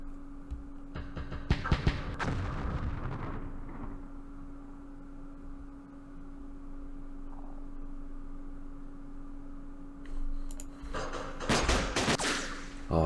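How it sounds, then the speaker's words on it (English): Mortar fire in the Vietnam war game Campaign Series Vietnam, set at the 1968 Battle of Tan An, comes as bursts of rapid explosive blasts at the start and end, with quieter hum between. "So happy to see that the mortars are working."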